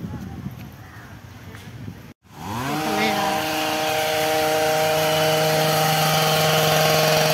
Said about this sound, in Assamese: এইটো দেখিছেনে কি ধুনীয়াকৈ কাটিছে দেখিছেনে মেচিনেদি কাটিছে